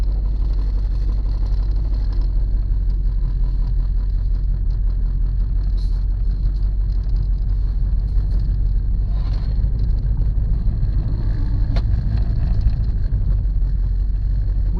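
An old Volkswagen that sat unused for 19 years is on the move, giving a loud, steady, low engine and road rumble from start to finish with no talk.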